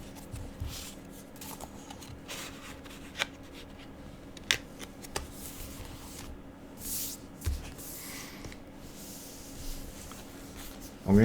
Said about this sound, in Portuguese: Alguém está digitando aqui, Maria Cristina.